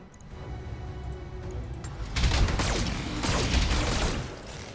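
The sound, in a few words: ammo explosion destroying a mech in the video game BattleTech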